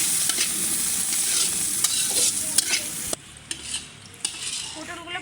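Pointed gourd slices fry in hot oil with chopped green chilies and onion, a constant bright sizzle broken by scraping stirs and utensil clinks; the frying hiss quiets abruptly partway through, leaving softer clatter.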